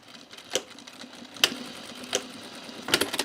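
A home sewing machine stitches a bag in short, uneven bursts with irregular gaps and faint clicks, as if stitches are skipping or the bobbin is running out, close and fairly quiet with no talk.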